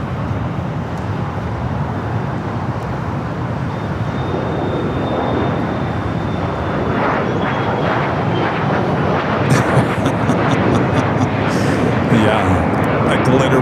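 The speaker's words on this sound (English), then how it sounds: "Also have that Coletta Air 777 freighter heading to Seoul, flight 256" A Kalitta Air Boeing 777 freighter takes off at LAX, a broad jet roar that builds steadily and grows louder toward the end, with a faint whine running through it.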